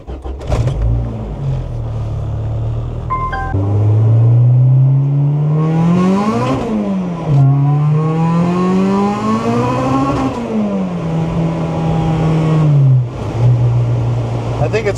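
A supercharged Honda B18C-powered car drives on a wet road, its engine rising and falling through several loud revving pulls and gear changes up close, with no talking heard.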